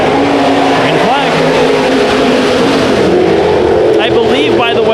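Race cars at the start of a heat race at Ocean Speedway roar loudly and continuously together, engines droning and revving as the pack gets under way, with a commentator talking over the noise.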